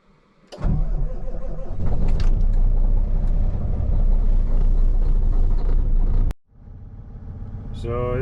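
A new 2025 Kenworth W990 truck drives with a loud, steady diesel engine drone, heard from inside the cab. The drone cuts out briefly near the end and is followed by a quieter mechanical hum and a short squeal.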